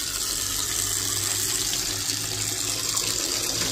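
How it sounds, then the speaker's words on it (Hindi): Water gushes steadily from a tap, a loud, continuous rushing stream heard up close without any speech. "लो पानी का नल खोलो"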